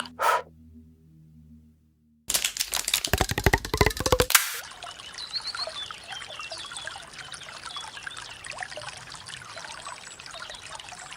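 Water trickling in a slimy creek on a cold, gray day in a field, a steady close babbling flow that follows a brief rushing pour, with no voices.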